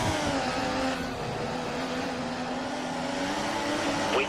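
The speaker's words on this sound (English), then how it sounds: "The car behind is running on full revs." A Formula One race car at Belgium in 2014, engine held at full revs in a steady, high, whining drone that stays loud and close throughout.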